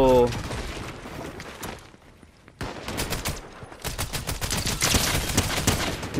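Suppressed gunfire in Fortnite Chapter 5 Season 3 comes as bursts of muffled shots in rapid volleys, loud and close, with a short lull before the firing resumes.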